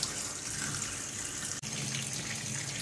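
Tap water runs steadily from a faucet while a bird caught in glue is washed with dish soap, a continuous close splashing stream with a brief dip partway.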